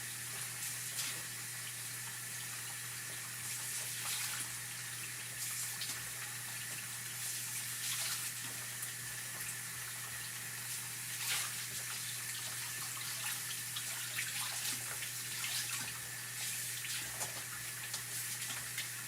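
Water runs steadily from a sink tap as hands are washed, a constant broadband rush at moderate level with a low mains-like hum beneath and no talking.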